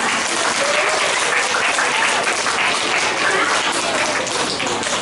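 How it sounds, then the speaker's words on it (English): A school audience of children and parents at a junior building reading competition gives a loud, dense round of applause that continues evenly throughout. "a big round of applause for Ms. Zahura."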